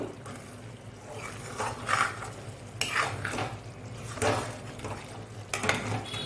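Spoon stirring chili powder into a prawn curry in a pan, with intermittent scraping and clinking strokes against the metal over a low steady hum, several distinct stirring bursts spaced a second or so apart.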